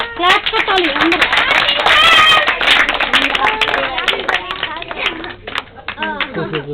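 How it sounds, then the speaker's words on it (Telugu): Group clapping at a small Christmas cake-cutting gathering, quick uneven claps from several people running continuously under loud overlapping talk and children's voices. "క్లాప్స్ కొట్టండి రా."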